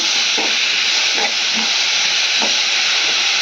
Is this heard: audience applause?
no